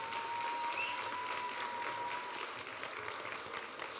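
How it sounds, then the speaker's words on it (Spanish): Applause from an audience thanking the people who handed out chocolates at a talk on Mexican chocolate history, a steady dense clapping that stays fairly even and slowly fades a little over four seconds. "Podemos ofrecerle a Carla, a Juliana, a Vanessa y Alan un aplauso por repartir todos esos chocolates"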